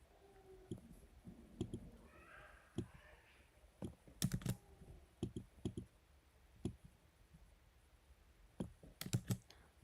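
Sparse, quiet key clicks on a computer keyboard, scattered taps and small clusters with long gaps between them, faint and close, with a brief soft murmur in the background.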